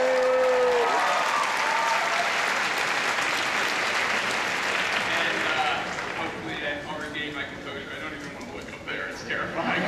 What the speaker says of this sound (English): You guys just like clap for me like I'm a fifth grader in a talent show.